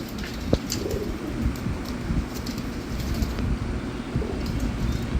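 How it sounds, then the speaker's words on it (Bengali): Gorra pigeons cooing in a loft, soft low coos repeating under a steady broadband background hum, with occasional faint chirps. "বর্তমানে বাসায় কী কী কবুতরগুলো আছে এগুলো দেখতে চাইছেন"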